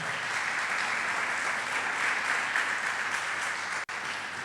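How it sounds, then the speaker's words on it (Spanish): A church congregation applauds during a sermon, a dense, even wash of many hands clapping at steady volume, with a brief dropout near the end. "Dale otro aplauso al Señor"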